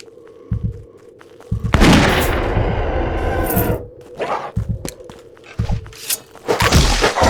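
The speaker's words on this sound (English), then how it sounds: "I don't think she would have missed the sound of our pistol." Several sharp pistol gunshots in a horror video game ring out amid rumbling, game-style sound effects and a low hum, some shots close together.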